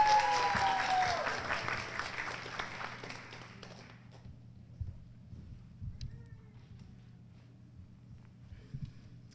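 Audience at a nursing pinning ceremony claps loudly to welcome a graduate speaker. The applause is dense at first and fades out over about four seconds, leaving a quiet hall with faint shuffles and scattered knocks.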